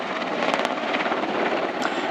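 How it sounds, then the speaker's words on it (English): A Royal Netherlands Air Force Apache helicopter flies a display at an air show, its rotor and engine making a loud, steady thudding roar with no break. "Very impressive performance from this helicopter"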